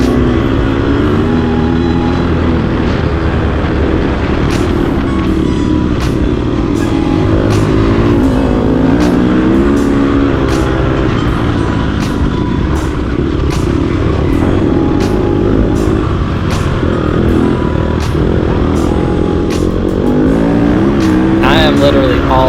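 An off-road race car runs a lap on hard-pack dirt, its engine roaring loud and close with steady full throttle and shifting revs throughout, while a voice talks over it.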